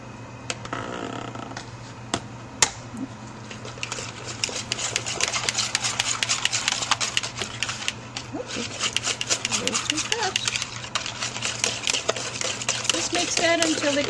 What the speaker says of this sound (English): Mix that again with the eggs